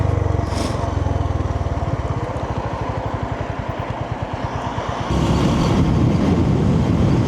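A 2025 Honda GB350S motorcycle pulls away under steady throttle, its single-cylinder exhaust thumping in a loud, rapid, even pulse close by before the revs climb into a denser roar with wind rush.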